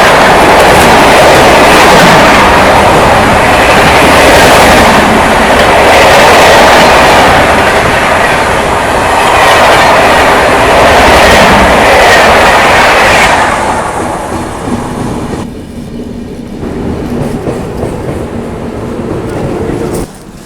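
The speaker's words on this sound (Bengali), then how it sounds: "train number 12834 Ahmedabad superfast express, Howrah থেকে ছেড়ে আসছে আহমেদাবাদ জন্য" Ahmedabad Superfast Express 12834, running from Howrah toward Ahmedabad, passes close by with a loud, continuous rolling rumble and wheel clatter that eases off and thins out over the last several seconds.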